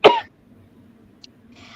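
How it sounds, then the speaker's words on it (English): A single sharp cough at close range, followed by near silence and a faint rustle. "oh, my cough is back."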